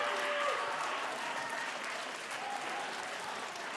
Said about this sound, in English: I love how these guys keep cheering like they keep winning